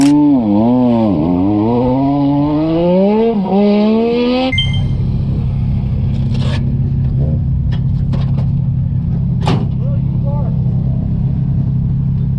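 A small race car engine revs hard, its pitch rising and dipping through several bursts of acceleration. It then drops to a steady, loud lower drone while the car runs on, with occasional sharp knocks and crackles over the rumble.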